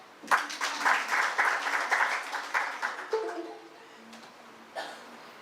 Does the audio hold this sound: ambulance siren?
no